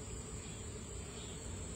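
A dense, steady buzz of many honey bees droning continuously close by during hive inspection, with a high whine on top and no voices.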